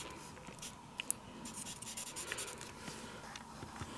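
Brown marker coloring in a small stamped image for a card craft, a close, steady scratchy rubbing of felt tip on paper with a few brief taps, no talking.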